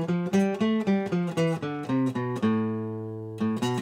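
A guitar plays a natural minor scale, a series of distinct plucked notes stepping through the scale before a final note rings out and fades, close and clear with no talking.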